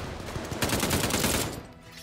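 Rapid double-barrel shotgun and Whitley rifle fire in a Call of Duty: Vanguard match, a dense burst of overlapping shots swelling through the middle of the stretch before thinning out.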